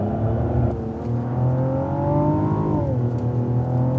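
Cadillac ATS-V on a track test drive, its engine note climbing steadily under throttle before dropping sharply near the end, loud and close with no talk.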